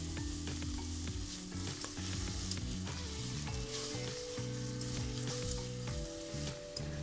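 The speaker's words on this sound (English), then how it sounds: "You want to make sure that sugar nicely dissolves and starts caramelizing as well." Sugar dissolving and caramelizing in a hot pot gives a dense, steady sizzle with crackling bubbles, constant and close throughout, with a low hum beneath and no voices.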